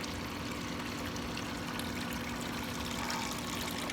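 Wort recirculating during beer brewing pours and trickles in a steady, continuous splash of liquid close to the microphone, even in level throughout with a faint pump hum beneath and no talking.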